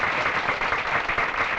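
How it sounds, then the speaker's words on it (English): A crowd claps for a bowler at a professional bowling championship in Akron, Ohio, with a steady, even wash of applause that holds for under two seconds and carries no voices over it. "So he gets a nice hand from the crowd here in Akron, Ohio."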